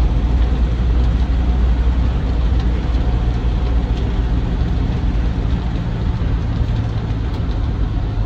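A Land Rover Defender 90 TDCi soft top drives along a straight track, its diesel engine and road rumble a steady, loud, low drone heard from inside the vehicle, with no voices.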